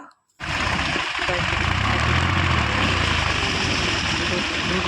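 A loud, close tractor engine rumbles and drones steadily after cutting in abruptly, with a rough, throbbing low note.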